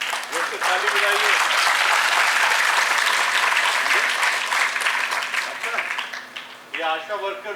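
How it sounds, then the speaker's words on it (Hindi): Sustained audience applause fills a felicitation ceremony honoring TB champions at Raj Bhavan, Dehradun, steady and dense throughout, with a voice speaking over it near the end. "ताली बजाइए।"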